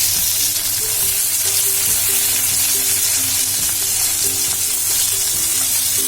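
Kupa fish frying in a pan, a steady, loud, continuous sizzle of hot oil with faint crackling, close up and uninterrupted, no talk.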